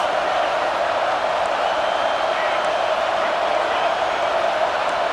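A video game college football stadium crowd, Florida State against Washington, roars as a dense, steady wall of noise, loud and continuous, with no cheering peaks.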